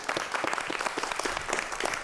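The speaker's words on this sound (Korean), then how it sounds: "박수 부탁드릴게요." A studio audience at a televised lecture on science in architecture applauds the lecturer, giving a brief burst of dense, even clapping at moderate volume without any voices.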